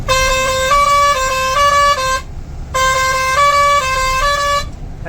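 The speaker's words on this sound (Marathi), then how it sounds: "हॉर्न पण टाकलेला आहे फॉर्नर टेस्टिंग देऊया आता" A newly fitted loud musical truck horn, tested on a highway, plays a repeating melodic tune, two long phrases separated by a short pause, over a low engine hum.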